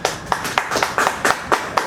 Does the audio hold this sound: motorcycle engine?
no